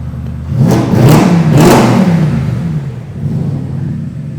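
Audi RS5 engine with a muffler delete revving hard, a loud throaty blip rising and falling twice before settling into a rumbling idle, heard up close.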